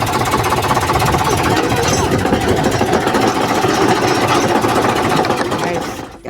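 A tractor engine running close by with a hard, rapid mechanical chugging that stays loud and steady before fading out at the very end.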